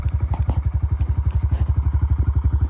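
A 2024 Honda CRF125 Big Wheel dirt trail bike runs close by with a loud, steady, rapidly pulsing engine beat and light mechanical clatter.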